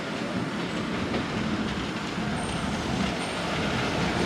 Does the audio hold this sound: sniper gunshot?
no